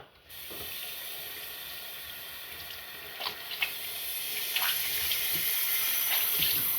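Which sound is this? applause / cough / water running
water running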